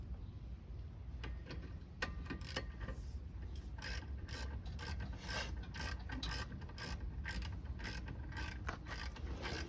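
Ratcheting and clicking of a wrench tightening bolts on a Toyota Prius brake rotor, a steady run of close, sharp mechanical ticks and clacks with no talking.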